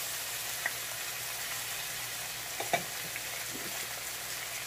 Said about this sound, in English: And we're also going to saute our tomatoes as well